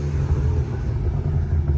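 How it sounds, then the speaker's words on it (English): A Ford Ranger Raptor pickup with Fenfab downpipes idles and rumbles through its exhaust with the valves open, a loud continuous low gurgle that pulses slightly, close up and with no voices. "Ooh, listen to that gurgle."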